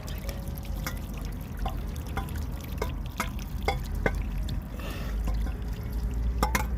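Water being poured over a stuck car wheel, a steady splashing trickle with scattered drips and taps, fairly close, no talking.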